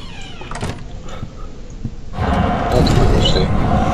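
A door closes in Amnesia: The Dark Descent. A few sharp knocks come first, then a heavy, sustained rumbling thud that swells and lingers over the game's ambient background.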